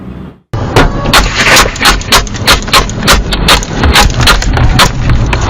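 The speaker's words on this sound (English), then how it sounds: "Chilling dash camera video obtained by talk show host Andy Slater showing the moments a road rage incident leads up to shots fired." Gunfire during a road rage incident on the I-95 highway, picked up by a dash camera. A rapid string of loud, sharp bangs comes at a brisk regular pace over constant road and engine noise.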